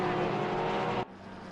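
A GT3 race car in the Assetto Corsa Competizione sim racing game roars close by, steady engine drone that cuts abruptly to a quieter, lower hum about two-thirds through, with no talk.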